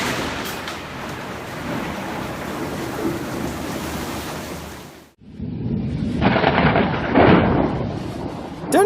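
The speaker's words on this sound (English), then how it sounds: "instead recorded a dramatic lightning strike" Steady rain hisses and patters, then a lightning strike cuts in with a sudden loud thunder crack that swells into a heavy, rumbling roll over the continuing downpour.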